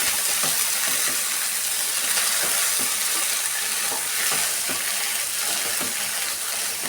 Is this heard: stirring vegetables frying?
yes